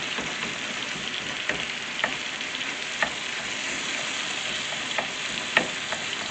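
Ground beef sizzles steadily in a pan for taquitos, a dense, even crackle with occasional sharp clicks of a utensil against the pan, and no voices.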